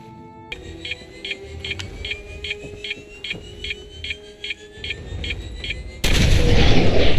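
Explosion in the video game Fallout 4: a rapid series of regular electronic beeps, then a sudden loud blast that continues as a sustained roar to the end.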